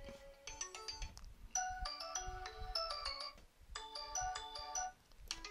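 A TCL Go ringtone plays from the speaker of a TCL 10L phone: bright, chiming melodic phrases in two repeated bursts with a short gap between, moderately loud and alone.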